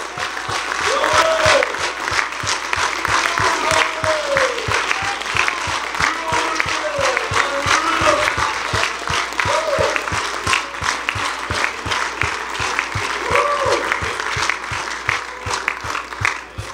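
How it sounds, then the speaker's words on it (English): A church audience applauds with hands clapping in a long, loud, steady patter. A faint sung or spoken voice runs underneath, and the claps keep a fairly even pulse throughout. "Wow, I'm going to clap my hands."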